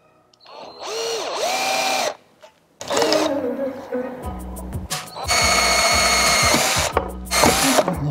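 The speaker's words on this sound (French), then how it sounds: "Voilà, maintenant que j'ai tracé mes 4 trous, je vais pouvoir les percer." Holes are drilled for a snorkel on a Toyota KDJ120 using a small 2.5 mm bit. A power drill whines in several bursts, speeding up and slowing down, with short pauses and clicks between holes.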